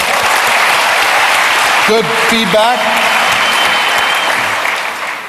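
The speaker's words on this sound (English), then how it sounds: "give him a round of applause." A panel audience breaks into a sustained, dense round of applause that fills the room and stays steady throughout, with a brief spoken remark heard faintly underneath.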